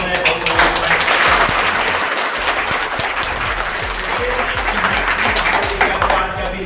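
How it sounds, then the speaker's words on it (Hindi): A seminar audience gives loud, sustained applause for Ajit ji at a network marketing business talk, with dense rapid clapping filling the room throughout. "एक बार अजीत जी के लिए जोरदार ताली होना चाहिए"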